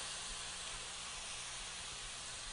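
Shrimp lifted from marinade into a hot skillet for creamy New Orleans BBQ shrimp produce a constant, smooth hiss of frying, even and unbroken, quiet overall with no talking.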